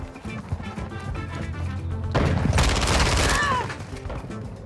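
Rapid MP5 submachine gun fire during a multiplayer shooter video game round, a loud dense burst of shots over game background noise and faint voices, building in the second half.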